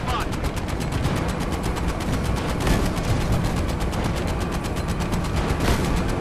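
Dense, continuous gunfire from Medal of Honor: Above and Beyond, rapid machine-gun bursts that run loud and unbroken across the whole stretch, with heavier shots mixed in and no talking over them.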